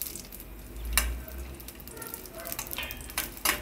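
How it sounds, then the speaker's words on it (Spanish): Onion and garlic frying in a pan for chicken enchilado, a faint continuous sizzle with a few sharper crackles and stirring clatters throughout. "Vamos a ir friendo las cosas poco a poquito."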